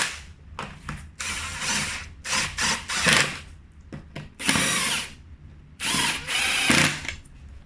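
Fasteners tightened on an all-terrain vehicle during a cable repair: repeated short bursts of a whirring power tool with brief pauses between, close and fairly loud, no speech.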